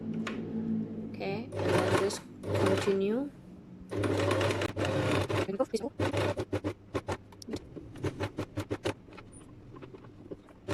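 A sewing machine top-stitches a patch pocket with flap, running in short bursts and then in a fast stuttering series of stitches, close and clear, while a person talks between runs.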